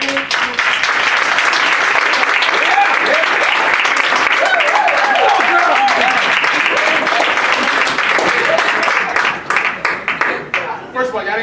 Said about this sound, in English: y'all didn't clap for me like that